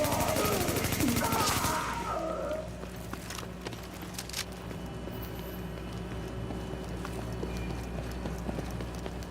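Gunfire in The Division: a loud, dense burst of shooting up front lasting about two seconds, then rapid clattering shots trail off into faint scattered pops over a steady low game ambience.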